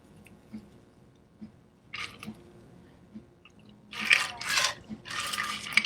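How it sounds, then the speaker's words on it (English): Cocktail double strained through a tea strainer and poured into a coupe glass, a quiet wet trickle and splash of liquid. It opens with faint small clicks, then the pour rises into three bursts of splashing toward the end. "I'm going to double strain this"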